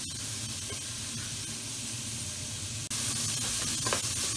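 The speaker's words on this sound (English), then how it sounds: "We're going to add about 3 tablespoons of oil, and we'll add our onion and chili straight in." Onion and chili sizzling in about three tablespoons of oil in a pot over low to medium heat, a steady broadband hiss that runs unbroken throughout, with a brief dip near the end before it resumes just as loud.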